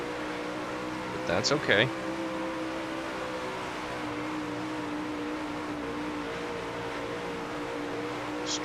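Dirt race car engines in the World of Outlaws: Dirt Racing game, heard as a steady droning roar with sustained engine tones that stays level throughout, with brief spoken words near the start.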